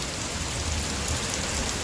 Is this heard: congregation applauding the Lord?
no